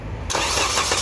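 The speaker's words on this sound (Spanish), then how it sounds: "Arranca." A car engine with its alternator belt removed, which normally drives several pulleys, fires up abruptly in a loud, close burst after a brief quiet moment.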